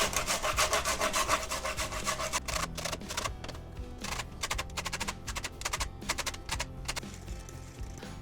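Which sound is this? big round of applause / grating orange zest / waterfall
grating orange zest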